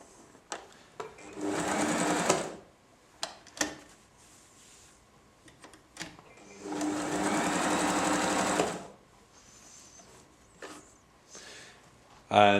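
A Janome 2522 sewing machine stitches in two sustained bursts of steady motor hum and needle chatter, with sharp clicks and knocks between runs.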